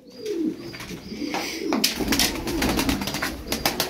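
Tumbler pigeons cooing in a loft, soft repeated low coos close by with some flapping and rustling, no talk.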